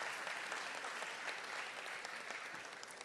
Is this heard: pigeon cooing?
no